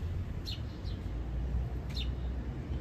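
Birds give short, high chirps in the early morning outdoors near a flower garden, a few brief calls at a moderate distance over a low, steady background rumble.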